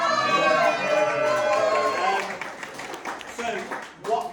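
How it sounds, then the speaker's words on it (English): An audience in a lively talk-show crowd claps and cheers loudly at first, the applause fading into scattered clapping and murmur with a few louder bursts near the end. "Round of applause for sexual fulfillment."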